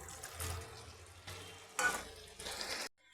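Spice paste fries in a pan with a bay leaf and grated spices. Soft, fairly quiet sizzling comes and goes in several swells, then ends abruptly, with no voice.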